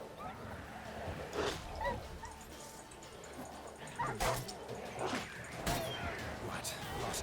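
Wild dogs in The Witcher 3: Wild Hunt bark and yelp in bursts while fighting, the scuffle also involving drowners, with a game voice speaking over the fray.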